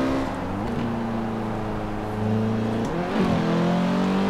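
A Mazda's engine in Forza Horizon 4 drones at steady speed, then swells into a louder rev as the pitch climbs near the end. The exhaust note is close and clear, with no talking.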